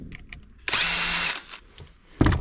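A power drill backs screws out of a garden hose repair fitting, whirring loudly and steadily for over half a second, with a brief second burst starting at the end.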